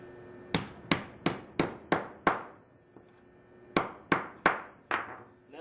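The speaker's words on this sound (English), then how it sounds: "smash the end of each end down flat with our hammer" A hammer strikes the end of a copper pipe to flatten it, ringing metallic blows in two close, evenly spaced runs of about six and five hits with a short pause between.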